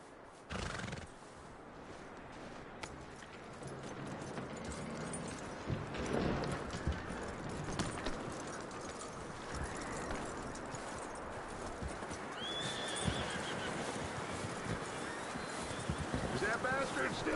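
A horse in the Red Dead Redemption 2 video game clip-clops along and whinnies against busy outdoor ambience. The hoofbeats are steady and fairly close, and faint voices sit in the background.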